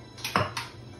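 Apples tipped into a pan on a stovetop over medium heat, heard as a brief clatter and metallic knock of fruit and utensil against cookware, close by with no voices.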